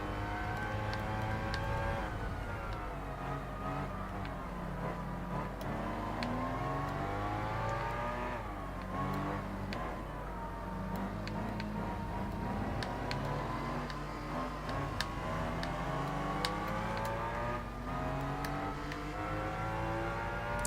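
Race car engines in Gran Turismo 4 scream and climb through repeated gear changes, with rising and falling whines layered over a constant dense drone, loud and continuous throughout.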